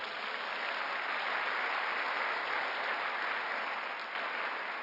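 A church congregation applauding at a Sunday service, a dense, even wash of clapping from many hands, sustained and steady for several seconds with no voices standing out.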